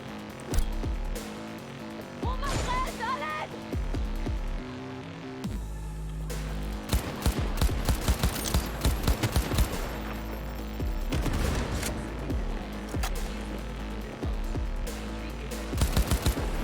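Gunfire in the video game Cyberpunk, repeated bursts of rattling automatic shots and sharp single cracks with booming impacts, loud and dense through most of the span.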